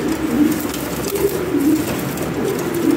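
Lahori pigeons coo in soft repeated low murmurs, close by, over a busy background of faint rustling and noise, with no speech.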